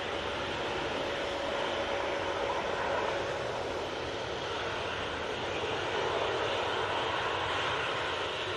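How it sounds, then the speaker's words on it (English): A Boeing 787-8 Dreamliner takes off from Manchester Airport bound for Tenerife, its engines a steady, broad roar held at an even level throughout, with no voices. "And off to Tenerife they go with that 787-8 Dreamliner."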